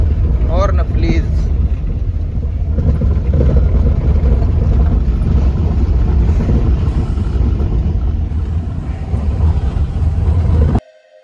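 A Maruti Alto car engine hums and rumbles steadily while driving, heard from inside the cabin, with voices at times, before cutting off abruptly near the end.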